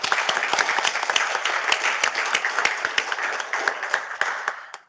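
A round of applause from a developer-conference audience, steady dense clapping that holds strongly for several seconds and then fades out at the end.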